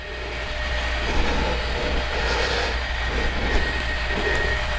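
Polar Express model passenger train running on the inner loop of a layout, a continuous close rumbling whir with a low hum and steady rolling noise, no breaks.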